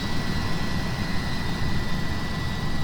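Avro Vulcan bomber jet engines roar in a dense, steady broadband rumble as the throttles come back on landing, loud and constant with a faint high whine on top.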